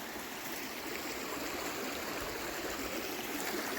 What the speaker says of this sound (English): It's a decent sized creek.